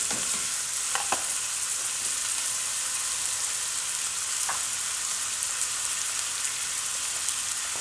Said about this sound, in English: our little speck of meat is sizzling